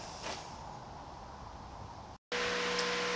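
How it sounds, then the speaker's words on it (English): A fan whirs with a steady broadband hiss, briefly cuts out, then resumes louder with a faint tonal hum. "sorry about the fan noise"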